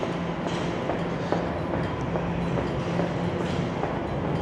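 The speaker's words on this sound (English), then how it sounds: "I just took the subway on line 1 from Dundas all the way straight up to Finch." A Toronto line 1 subway train at Finch station rumbles steadily with rhythmic rail clatter and occasional clicks, a continuous mechanical drone close by.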